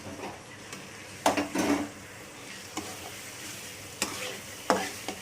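Paneer being stirred and roasted in a spiced masala with turmeric and chili powder, soft sizzling under several distinct spoon-on-pan scrapes and clinks, close by and without talk.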